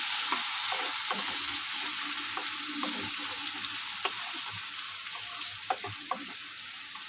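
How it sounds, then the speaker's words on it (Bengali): Bitter gourd frying for a fish curry sizzles steadily in a pan, with repeated scraping and stirring clinks throughout, close up and without talk. "চলো ভালো করে ভেজে নিই"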